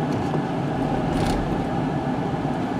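Rear shudder in a 2016 Ford Edge while driving, a dense steady low rumble of road and drivetrain noise heard from inside the cabin with no voices.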